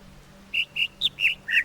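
A sequence of five short, bright bird-call notes from a bird noise puzzle plays alone, evenly spaced, each a clear whistled chirp, with the final notes rising slightly in pitch.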